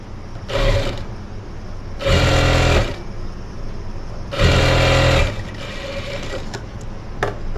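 A sewing machine stitches blouse fabric in three loud motor bursts of about half a second to a second each, separated by quieter pauses with faint handling noises, and no one speaks.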